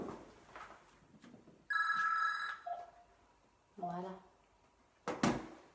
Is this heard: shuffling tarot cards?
no